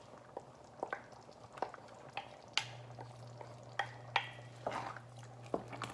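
Mushrooms going into a pot of homemade spaghetti sauce made from freshly picked tomatoes after half an hour of simmering, heard as soft wet stirring clicks and squelches over a low steady hum, fairly quiet and close.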